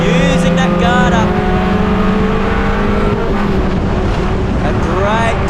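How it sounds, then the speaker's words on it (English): Junior sedan race cars roar loudly around a dirt speedway in an SSA round at Northline Speedway, engines revving side by side in a continuous dense drone while a commentator talks over the racing. "A great demonstration of racing at the moment."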